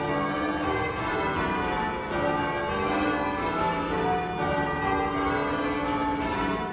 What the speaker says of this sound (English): So these are all original 1828 bells.